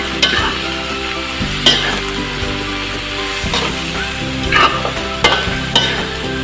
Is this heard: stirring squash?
yes